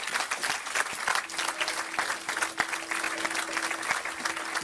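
Congregation clapping in praise of the Lord during a church healing service, a dense, steady applause filling the hall for several seconds with a sustained tone underneath.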